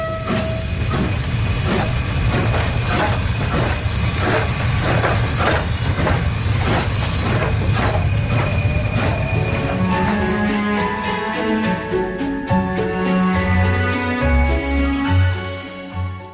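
A moving train runs with a loud, steady clickety-clack of wheels over rail joints and a continuous rumble. Tonal hums shift toward the end, and no one speaks.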